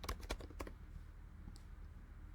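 Quick burst of several keystrokes on a computer keyboard as a keyword is typed, close and crisp, then a quiet pause with one faint click.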